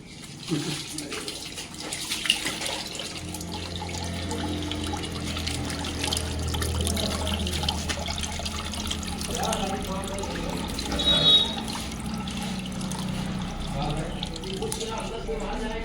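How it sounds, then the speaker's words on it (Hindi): Water draining and trickling off rinsed poha at a roadside dhaba, a steady running splash under ongoing talk and kitchen clatter. "अब इसका खाली पानी निकलने दो।"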